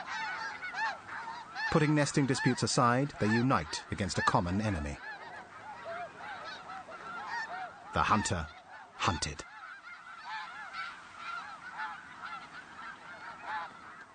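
Loud, harsh honking from several geese in the Russian Arctic, bursts of clamor coming and going, with someone narrating calmly over and between the calls.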